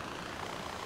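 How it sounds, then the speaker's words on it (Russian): Helicopter in the Far Cry 4 video game, a steady whirring rotor and engine drone filling the clip at low level, continuous with no voices. "Это вертолет?"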